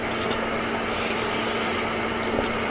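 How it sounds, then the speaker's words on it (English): Cooking spray hisses steadily from an aerosol can into a cake pan for a pound cake, one continuous close, loud spray lasting a few seconds with no talking. "that way you can spray around in a circle and get it really sprayed up so your cake won't stick"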